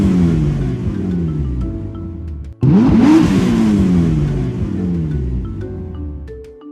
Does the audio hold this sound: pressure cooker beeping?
no